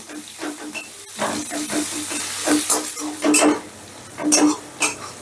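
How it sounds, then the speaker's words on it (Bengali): Chopped onion frying in a pan while being stirred, heard as a continuous close sizzle broken by repeated clanking and scraping of a utensil against the pan, louder in bursts toward the end. "এবার পেঁয়াজটাও হালকা করে একটু ভেজে নেব।"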